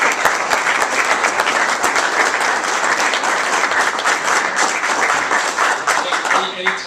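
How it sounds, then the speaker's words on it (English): Steady, dense applause from an audience at a golf awards presentation, honoring the golf club, continues without a break for several seconds. "let's just start out with a round of applause for this terrific golf club"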